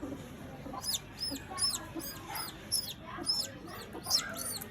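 A hen clucks repeatedly while chicks hatch from eggs, a quick, regular series of sharp calls, fairly close, over a quiet background.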